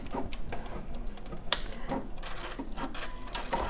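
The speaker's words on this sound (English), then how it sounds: "I'm going to reverse stitch." A sewing machine runs steadily up close while reverse stitching a folded star tote bag, its mechanical whir carrying irregular clicks and ticks throughout.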